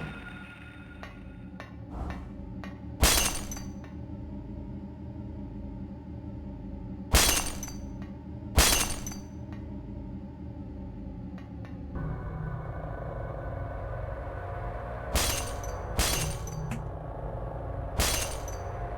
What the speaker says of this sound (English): There are creepy rooms with lots of smashing sounds like this one.